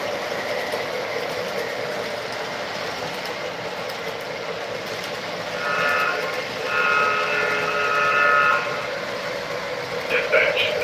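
A freight train rumbles steadily past a trackside detector, with continuous wheel and rail noise and some higher squealing tones partway through; nobody speaks.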